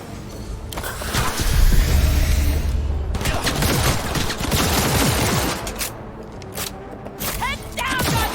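Dense, rapid gunfire from a firefight in the video game Cyberpunk 2077 rattles on throughout, with loud bursts and booms close up and voices shouting over the shooting.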